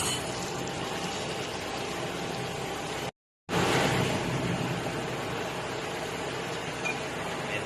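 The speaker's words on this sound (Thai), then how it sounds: "เสียงดังนิดนึงครับเสียงปั๊มเครื่องครับ" A water pump runs with a steady churning, watery whir, continuous and fairly close, briefly cut off before resuming.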